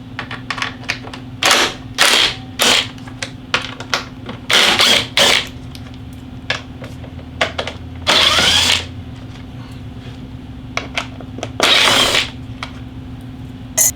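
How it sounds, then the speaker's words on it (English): Bolts are removed from a 2022 Harley Touring saddlebag lid with a T15 Torx bit, making repeated loud, short bursts of ratcheting and whirring from a power driver, separated by quieter handling noises. "Got to take all these bolts off, these four. It's T15."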